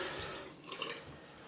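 Cold tap water runs and splashes faintly in a sink during a rinse while wet shaving with a double-edge safety razor, a quiet steady trickle.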